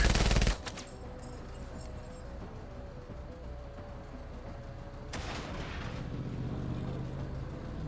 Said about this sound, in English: this is a laser cannon on a truck